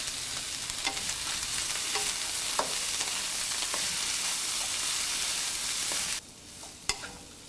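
Tindora (ivy gourd) stir fry sizzles steadily in a pan, a continuous close frying hiss that cuts out near the end, followed by a couple of faint clicks.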